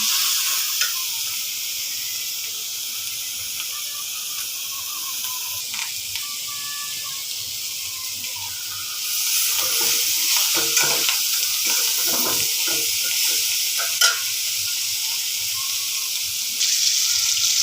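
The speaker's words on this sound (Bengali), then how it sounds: "এখানে করলা ভাজি করছি করলা ভাজি করছি" Bitter gourd (karela) fries in hot oil in a pan, a loud continuous sizzle close by that grows stronger partway through, with occasional stirring scrapes and no voices.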